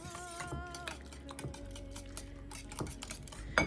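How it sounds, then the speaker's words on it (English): A whisk scraping and tapping through cottage cheese in a bowl, with quick repetitive clicks against the sides over a steady background hum, no talking. "So let's whisk cottage cheese in here real good."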